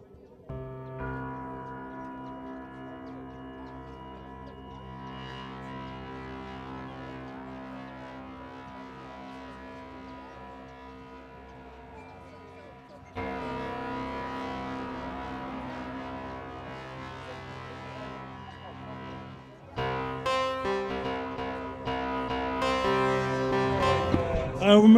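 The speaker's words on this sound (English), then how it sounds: "We can reverse the sound like this." Knobula Pianophonic wavetable synthesizer producing a reversed, piano-like tone: sustained harmonic notes swelling in rather than decaying, changing pitch in distinct sections and building louder toward the end, heard directly without talk.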